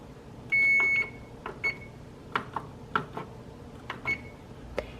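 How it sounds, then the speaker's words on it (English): A kitchen timer goes off with a single bright, sustained beep lasting about half a second, followed by a scattering of light clicks and taps from kitchen handling, fairly quiet overall and without speech. "My timer for 6 minutes is about to go off"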